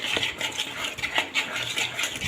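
Dhokla batter being whisked with added oil in a bowl: quick, rhythmic scraping and tapping strokes of a whisk against the container, repeated steadily and close up with no talk.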